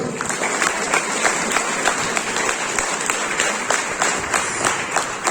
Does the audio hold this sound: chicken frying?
no